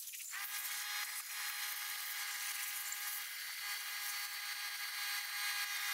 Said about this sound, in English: show you how to use compressed air also